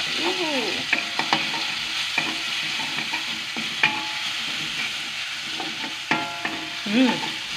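Capcay vegetables sizzle and fry in a hot pan, a loud steady sizzle throughout with repeated sharp scrapes and clinks of a utensil stirring.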